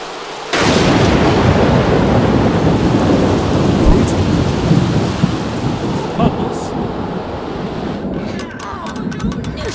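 Thunderstorm with heavy rain in The Sims 3 heard from inside a house, a loud sudden thunderclap followed by a long rolling rumble under constant dense rainfall, with crackling bursts near the end.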